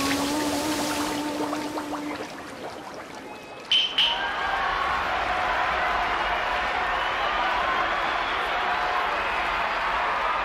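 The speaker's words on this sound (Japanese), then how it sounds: "大きな歓声に包まれています" Loud crowd cheering and applause swell at a sushi sumo bout between Kurumaebizo and Ikuramaru, steady and dense after a brief burst of clatter, with a tonal jingle at the start.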